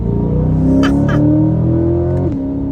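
A Chevrolet C8 Corvette accelerates hard, its engine note climbing steadily as it pulls through a gear, loud and close from inside the cabin, with a brief shift-like dip near the end.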